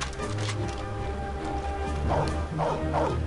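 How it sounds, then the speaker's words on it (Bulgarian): A dog in the Mafia video game barks a few times near the end, short yaps over a constant low game ambience and music bed. "Това куче!"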